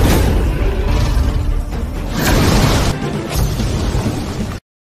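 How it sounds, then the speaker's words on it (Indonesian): A massive explosion roars continuously for about four and a half seconds, with dense rumbling swells and crackling surges before cutting off abruptly. The blast comes from two clashing attacks in a fantasy martial-arts battle. "Serangan mereka berdua mampu mengimbangi satu sama lain, yang mengakibatkan sebuah ledakan yang begitu besar."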